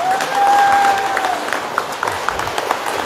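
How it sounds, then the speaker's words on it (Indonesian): Applause from an event audience welcoming a speaker, a dense wash of clapping that swells early and then thins, with a faint tone and scattered louder claps over a steady crowd bed. "Beri sambutan yang meriah dan aplaus yang meriah buat Bang Deddy"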